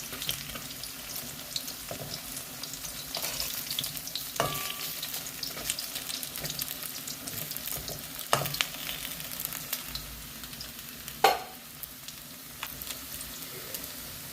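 Cabbage fritters frying in oil in a pan, a steady close sizzle and crackle throughout, broken by occasional clinks of a utensil and a sharp knock near the end.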